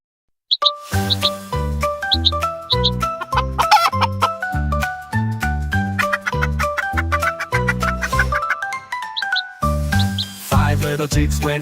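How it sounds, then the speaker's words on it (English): Mother chicken clucking in a children's nursery rhyme song, heard as short clucks within bouncy music with bells and singing. "Mother chicken said cluck, cluck, cluck, cluck"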